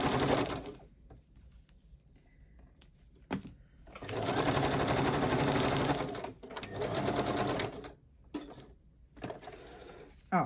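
A sewing machine runs in bursts of fast, steady mechanical stitching, switching between zigzag and straight stitch during mixed-media flow-stitching embellishment, with short pauses between runs and no talk.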